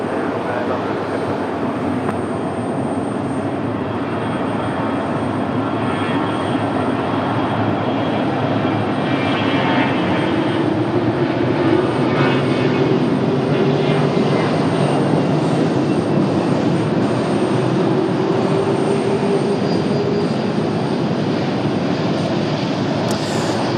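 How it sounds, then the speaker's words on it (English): An Airbus A319 jet departing from Raleigh-Durham airport, its loud engine roar building and holding steadily at a distance, with a rising whine through the middle and a broad rumbling wash throughout. "Got an A319 up for departure"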